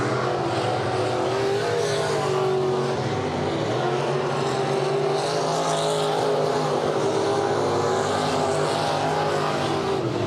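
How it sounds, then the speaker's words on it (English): Sport mod race cars speed around Maquoketa Speedway during Nippy 50 heats, a continuous loud engine roar rising and falling as the pack runs down the back straightaway, with no talk over it. "You see those cars make their way down the back straightaway."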